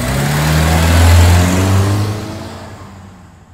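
A Lincoln car pulls away, its engine revving up loudly nearby, then fading steadily as it drives off into the distance, with no voices.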